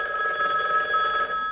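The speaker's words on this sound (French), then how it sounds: "Le téléphone sonne." A telephone bell rings steadily and loudly for a moment in a French TV studio comedy show, a sustained electronic trill on its own with no voices over it.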